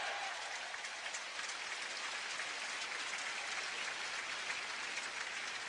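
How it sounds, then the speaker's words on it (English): Crowd at the 1984 French Open men's final between Ivan Lendl and John McEnroe cheering for Lendl, a dense, continuous roar of applause and clapping filling the stadium. "Now they're cheering Lendl now."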